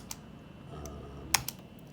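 Keys tap on a computer keyboard as text goes into the Unix cat command, a few sparse clicks close and quiet in a hushed room.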